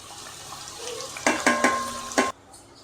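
Small onions go into hot oil for Katla fish curry, a series of close metallic clanks and scrapes against the pan over a low sizzle, ending abruptly into quiet.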